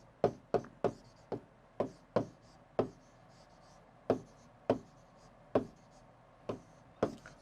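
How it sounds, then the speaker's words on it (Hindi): Sharp taps and short strokes of a pen or chalk writing out a maths example on a board, an irregular string of about a dozen close, crisp knocks with brief pauses between them and no talk. "एग्जाम्पल लिखते हैं।"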